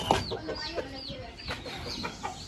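Hens cluck in a steady, close scatter of short calls, with brief chirping notes threaded between them and no voices.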